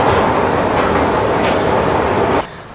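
A subway train rumbles steadily through a large metro station, loud and continuous, then cuts off abruptly near the end.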